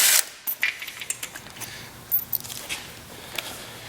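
A ratchet works a bolt loose at the back of a factory seat on a 2014-or-later Indian Chief motorcycle, giving a series of sharp, uneven clicks and metallic ticks close by, with brief pauses between bursts.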